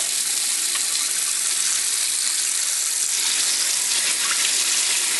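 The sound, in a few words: water running while rinsing dyed laces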